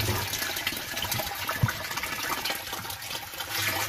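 Water pouring into a full household water storage tank and spilling into its overflow drain pipe, a steady close rushing and gurgling that fills the whole stretch without any talk.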